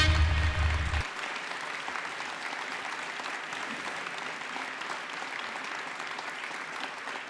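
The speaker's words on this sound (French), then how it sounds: "applaudissements, s'il vous plaît" A conference audience claps in steady, sustained applause that fills the hall evenly, loud and continuous, after a brief low rumble at the start.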